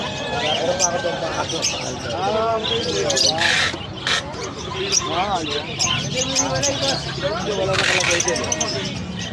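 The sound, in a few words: birds squawking at a pet market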